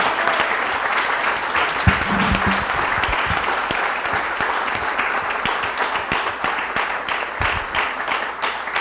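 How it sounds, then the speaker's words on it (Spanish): Sustained audience applause for Rodolfo and Wilson at a Frente Amplio tribute to Carlos Luis Fallas, a full, even wash of many hands clapping for several seconds, close and continuous. "Un aplauso para Rodolfo y para Wilson."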